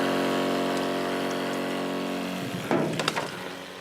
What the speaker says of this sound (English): Pump's going, you can hear it light up.